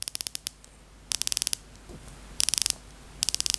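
Tudor Black Bay 58 watch bezel turned in bursts, each a quick run of about six to eight crisp, close ratcheting clicks, four runs in all with short quiet gaps between.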